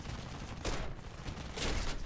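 Rear gunners in War Thunder fire aircraft machine guns in two short bursts, each a dense, loud rattle, over steady engine drone.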